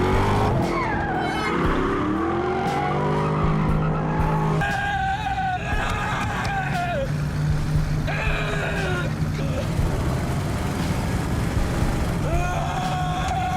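A muscle car street race at night in a film scene, with engines roaring and tires squealing in loud, continuous bursts over a dense mix of music and effects.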